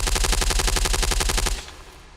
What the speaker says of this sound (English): one SAS soldier is hit by a wild spray of gunfire.